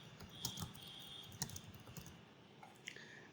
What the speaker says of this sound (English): type here your full name